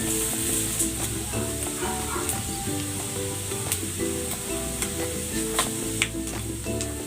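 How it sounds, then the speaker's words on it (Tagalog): Garlic sautéing in rendered fat from ground pork, a steady close sizzle and crackle with occasional stirring, no talking. "Igigisa ko na tong bawang."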